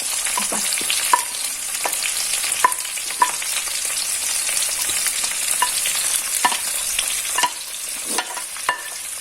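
Tomato, sliced onions and green chillies frying in oil for Kerala-style chicken molee, a steady close sizzle broken by frequent spoon scrapes and taps.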